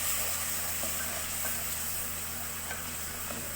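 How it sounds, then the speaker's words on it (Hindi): Masala with cumin, salt, turmeric and ground red chili frying in a pan, giving a continuous hissing sizzle at moderate level with a few faint ticks of stirring beneath it. "ये देखें, ये भुनना शुरू हो गया है।"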